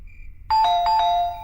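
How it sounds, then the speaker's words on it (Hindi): Electronic doorbell at a home's front door chimes a bright two-tone ding-dong, clear and fairly close, with ringing overtones after a short quiet hum, no voices over it. "दरवाजे की घंटी बज रही है।"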